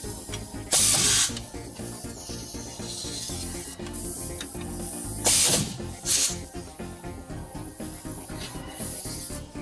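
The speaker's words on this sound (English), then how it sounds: "we're ready to get the caliper mount tightened up" Ratchet clicking steadily as the brake caliper mount is tightened on a 1973 Ford Mustang, a dense run of close mechanical ticks with a few louder bursts of hiss-like rasp, no voices.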